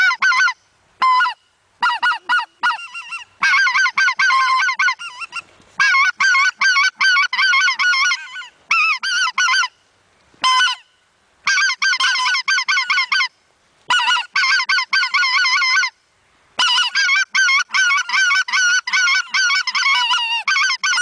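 Goose calls imitating the honking of geese in Pomorie, sounded in rapid repeated bursts of nasal honks with short pauses between groups, loud and close, with no talking.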